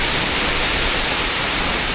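Heavy monsoon rain driven by strong wind in the Konkan region, a dense, steady roar of downpour and gusts filling the whole moment without pause, loud and close, with no voices.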